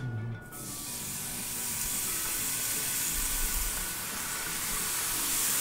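Ham seared in olive oil in a frying pan gives a steady, loud, close sizzling hiss that runs unbroken for several seconds, with no talk over it.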